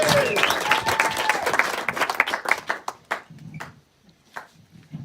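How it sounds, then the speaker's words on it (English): Wedding guests at a best man's speech clap for a named guest, a dense burst of applause and a few cheers that thin into scattered individual claps. "can I just have a round of applause for Lawrence"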